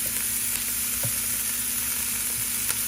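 Cajun seasoning sizzles in a hot black iron pot at the start of a jambalaya, a steady, close frying hiss that runs throughout with no voices over it.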